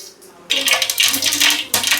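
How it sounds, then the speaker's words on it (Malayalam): Mustard seeds pop and crackle in a little coconut oil in a hot wok, a dense run of sharp spattering bursts starting after a brief quiet moment. "അതിനകത്തേക്ക് കുറച്ച് മാത്രം വെളിച്ചെണ്ണ ഒഴിക്കുന്നു കടുക് പൊട്ടിക്കുന്നു"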